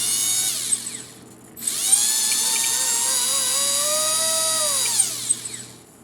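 Blade mCP-X RC helicopter with a brushless conversion, its motor held by the frame and throttled up, a loud whining tone rising in pitch, holding, then winding down, after a short burst.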